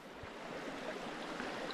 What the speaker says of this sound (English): I'm down here at the creek, and water conditions look really good